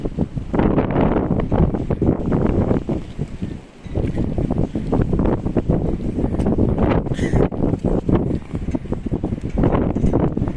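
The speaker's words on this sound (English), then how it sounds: "Today is windy and rainy." Strong wind buffets the microphone on a rainy day, loud gusty roaring in uneven surges with a short lull near the middle.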